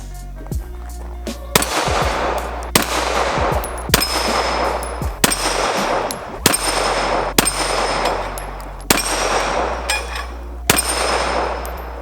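Repeated pistol shots ring off steel flip-up targets on a portable target rack, roughly one sharp crack every second, each followed by a bright metallic clang and ringing decay, loud and close with no talking.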